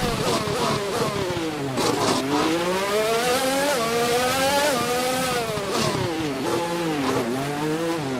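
Formula 1 car in F1 2021 racing around Monaco, its engine screaming loud and close throughout, pitch climbing through gears and dipping on downshifts with repeated rev swings into corners.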